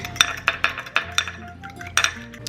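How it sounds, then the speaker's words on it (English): A whisk beats an egg with water in a bowl, giving quick sharp clinks of metal against the bowl in an uneven rhythm, about a dozen strikes, close and clear with no talk. "Give that a whisk"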